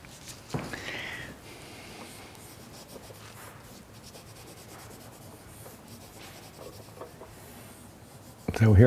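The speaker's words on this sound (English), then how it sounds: "So here I am erasing again with paper towel." A paper towel rubbed across a drawing to erase it makes a steady, soft scrubbing and rubbing texture close by, with a faint louder knock at the start and end.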